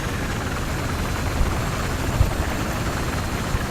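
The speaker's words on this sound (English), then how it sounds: "I'm still in the air in the same helicopter I started off." A Venom helicopter flies on the Wake Island map in Battlefield, its rotor and engine giving a loud, constant, noisy drone with a few faint thumps and no talk.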